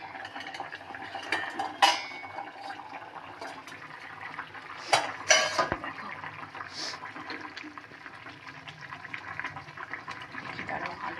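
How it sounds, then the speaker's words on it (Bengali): A metal lid comes off a cooking pot of boiling vegetable curry with new potatoes, giving a few sharp clanks near the start and middle over quiet kitchen background and a soft simmer. "চলো বন্ধুরা এবার দেখি ঢাকাটা খুলে কি পরিস্থিতি।"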